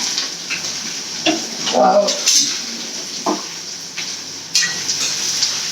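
Curry leaves and onions sautéing in a pan for a Tamil home-style fish curry meal, a steady close sizzle with scattered stirring scrapes and light clinks of utensil against the pan.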